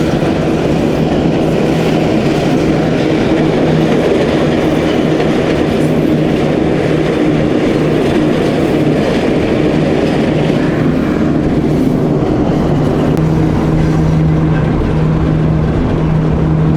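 Industrial railway wagons roll past at the Magnezit plant in Satka, making a loud, close, continuous rumble with rhythmic clickety-clack of wheels over rail joints and no speech.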